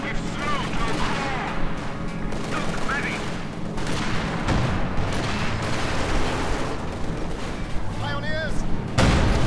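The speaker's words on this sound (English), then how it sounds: "anti-tank grenades falling down" Anti-tank grenades detonate in a Company of Heroes 2 battle, a dense, continuous rumble of booms and crackling gunfire with squeaky unit chatter and voices layered over it, ending in a sharp loud burst.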